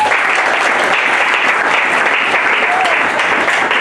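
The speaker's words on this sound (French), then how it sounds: "Est-ce que tu peux acclamer le Seigneur?" A church congregation applauds and cheers to acclaim the Lord, a dense, steady wash of clapping and shouts filling the room at full volume for the whole stretch, with voices mixed into the crowd noise.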